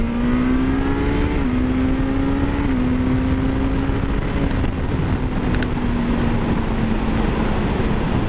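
A 2022 Suzuki GSX-S 1000 motorcycle accelerates hard with a quickshifter, its loud, steady engine note climbing in pitch and dropping briefly at each quick upshift, close and continuous throughout.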